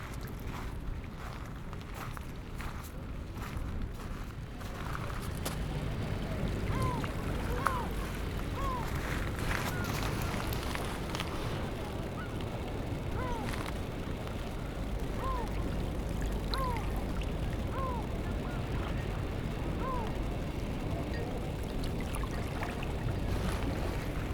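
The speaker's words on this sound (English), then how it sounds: "so we can actually hear the water a little bit better. It's very soft" Soft seaside water at Herne Bay laps gently and continuously under a broad wash of ambient noise, with faint chirping calls recurring in the background.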